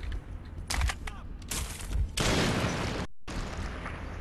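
Bursts of gunfire in the post-apocalyptic shooter Metro 2033, with several sharp shots early and a longer, denser burst of fire afterward, fairly loud and up close.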